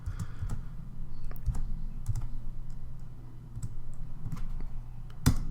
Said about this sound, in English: So I could just manually type this in.